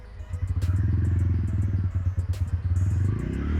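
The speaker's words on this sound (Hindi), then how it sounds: "एक बार एग्जॉस्ट नोट्स तो बनते हैं इसके" A TVS Ronin 225 motorcycle's customized exhaust thumps out a deep, rapid, loud single-cylinder note close by, with brief sharp clicks on top.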